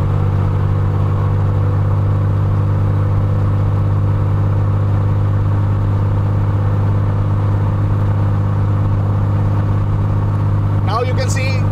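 Aircraft engine turning its propeller at about 2000 RPM, a loud, steady, low droning hum held evenly throughout, with a brief faint chirp near the end.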